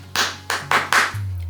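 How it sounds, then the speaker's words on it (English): Primary school children clap back a rhythm in a classroom, four quick group claps in a short pattern, close and crisp over a low steady hum. "And then the children repeat the clap"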